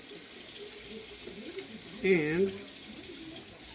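Tap water runs steadily into a cooking pot in a home kitchen while chicken and dumplings are made, a soft continuous stream with a person speaking briefly over it.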